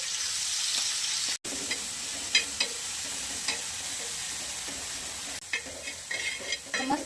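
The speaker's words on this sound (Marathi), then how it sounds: "थोडंसं जिरं पण टाकले आणि जिरी मोहरीची फोडणी द्यायची" Cumin and mustard seeds temper in hot oil with a steady, close sizzle, scattered small pops and crackles spitting through the frying hiss.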